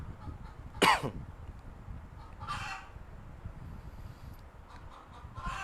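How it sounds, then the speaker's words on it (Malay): Village chickens behind a speaker give a sharp, brief cluck or squawk followed by a softer second call, faint against quiet outdoor background noise, with no speech. "kalau dengar bunyi ayam tu, ni belakang saya, ayam saya dekat belakang saya je"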